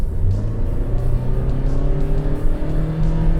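Toyota Innova Hycross ZX hybrid accelerating hard from about 50 km/h, with a steady, loud engine drone that holds and climbs through the pull and a rising low hum of road and drivetrain noise, no voices.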